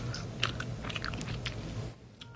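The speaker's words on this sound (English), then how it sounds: "You didn't hear me chewing? I hear you chewing." Soft, close crunching bites and chewing of an ice cream sandwich, quiet and intermittent with no talk.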